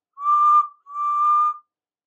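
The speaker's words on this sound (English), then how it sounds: "there was a feeble whistle" A feeble steam engine whistle sounds twice in close succession, two steady clear tones of moderate loudness with a brief gap between them, heard alone.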